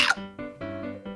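A person vocally imitates a bird with a short series of warbling, chirpy tonal calls, about four or five quick pulses in a little over a second, close to the microphone.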